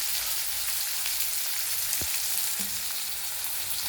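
Tomato, garlic and coconut fry in hot oil for soybean bhurji, giving a steady close sizzle with one brief knock partway through and no talking.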